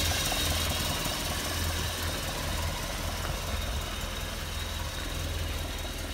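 A Land Rover Series 3 engine runs steadily while warming up, with an exhaust gap between downpipe and manifold; a continuous, slightly uneven low rumble and knocking idle fills the whole stretch at moderate level, with no talking.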